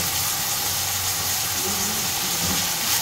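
Garlic dropped into hot oil in a pan for mutton curry, giving a steady, close, bright hiss and sizzle that runs without a break.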